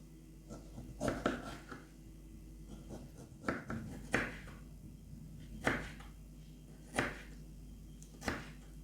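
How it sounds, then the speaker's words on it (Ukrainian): Knife chopping pieces of food into small cubes on a board, one of several ingredients for a cracker appetizer, with sharp, spaced knocks at irregular intervals and no talking. "нарізаємо на невеличкі шматочки, на такі кубики"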